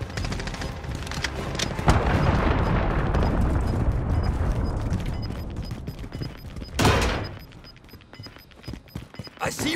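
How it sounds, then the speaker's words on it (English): A cruise missile strike in a multiplayer video game, with a loud rumbling blast that swells and holds for several seconds, then a second sharp, heavy explosion, followed by quieter crackling and debris. "Enemy cruise missile."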